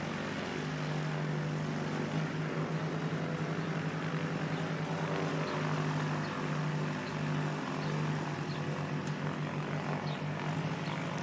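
An aircraft taxiing toward the runway at Christchurch Airport in fog, a steady engine drone and whine holding evenly at middle distance throughout, with no talking.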